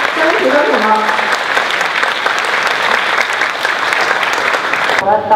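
Steady, loud applause from a school audience greets the guest of honour at a sharing session, a dense wash of clapping that carries on for several seconds before cutting off near the end.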